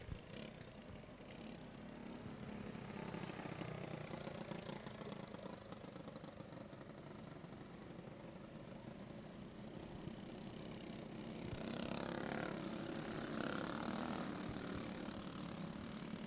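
Sportsman division go-karts, nearly all with animal engines, circling a racetrack at night, a distant droning engine buzz that holds steady and then swells louder as the karts pass closer.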